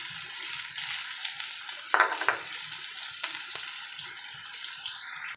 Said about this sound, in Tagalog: igigisa ko na itong onion and garlic